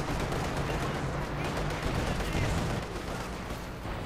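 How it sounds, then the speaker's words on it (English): Gunfire from a sniper rifle in the World War II strategy game Company of Heroes 2 pops out of a dense, loud battle din of continuous gunshots and explosions, with a voice commentating over it. "Sniper firing away, no incendiary explosive rounds"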